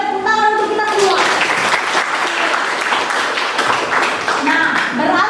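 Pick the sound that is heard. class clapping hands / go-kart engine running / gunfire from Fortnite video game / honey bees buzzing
class clapping hands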